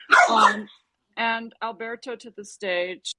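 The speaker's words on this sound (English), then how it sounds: "Sorry, that's my dog." A dog barks briefly at the start, a couple of sharp, loud barks, followed by someone talking clearly over a quiet background.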